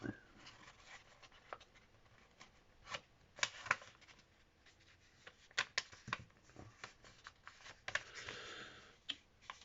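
Paper is creased and folded into an origami box, giving close, quiet irregular crinkles and sharp rustling snaps scattered through the stretch, with no talking.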